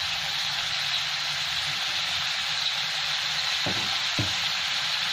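Potatoes and cauliflower fry in a pan with a steady, moderately loud sizzle, broken by a couple of short utensil knocks near the end.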